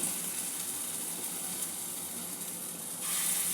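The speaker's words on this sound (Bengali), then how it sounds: "এখানে মুসুর ডালের পেস্টটা এখান থেকে অল্প অল্প করে নিয়ে বড়ার মতন ভেজে নেব" Lentil paste fritters fry in white oil in a kadai, giving a steady, close hiss and sizzle that runs unbroken and grows slightly louder toward the end.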